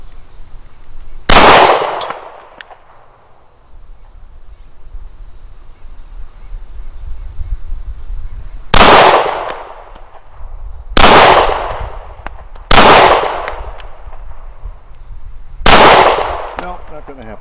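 A CZ P09 pistol with a Cajun Gun Works treatment and Vortex Venom red-dot fires double action at steel Texas Star plates. Five sharp, loud shots ring out, one alone early and four spaced a second or two apart, with light background noise between.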